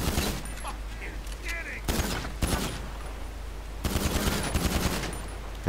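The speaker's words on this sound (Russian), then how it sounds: "Можно вот так вот стрелять без конца." Continuous automatic gunfire from a GTA 5 video game erupts in long, dense bursts of rapid shots with brief pauses between them, loud and close, while someone talks at points.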